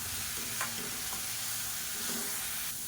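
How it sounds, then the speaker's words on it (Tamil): Chopped onions sauté in a pan for cabbage poriyal with a continuous soft sizzle. Faint scrapes of a spoon stir through it. "இப்போ இந்த வெங்காயம்லாம் சேர்த்துக்கிறதுனால ஒரு பச்சை வாசனை போகிற அளவுக்கு ஒரு 2 நிமிஷம் வதக்கி விட்டுக்கலாம்"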